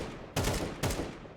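Two separate gunshots from an AK or Desert Eagle in a Counter-Strike 1v1 match, each a sharp crack with a short decaying tail over steady game ambience.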